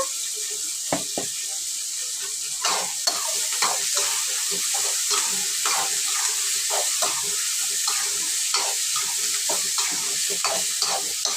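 Chopped onions sprinkled with salt fry in a pan for a brinjal curry, giving a constant hissing sizzle broken by frequent light scrapes and taps from stirring.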